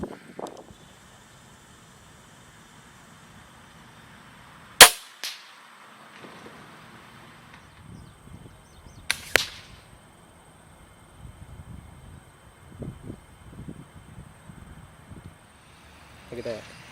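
A Killer Instinct Swat XP crossbow firing a bolt at a target bag on a range, two sharp loud snaps several seconds apart with a thud after each, amid quiet outdoor background and some talk.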